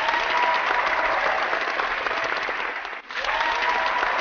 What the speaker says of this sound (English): Meanwhile, the crowd was absolutely going bananas.